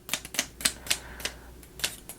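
Wooden keys on a Ugears mechanical celesta model are pressed one after another, giving a series of sharp, springy clacks at an uneven pace, close and quiet, with no talking.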